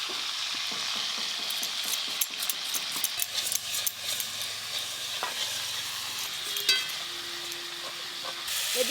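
Banana stem is finely chopped with a knife, making a quick series of crisp taps early on, heard over the continuous sizzle of prawns frying in a pan nearby.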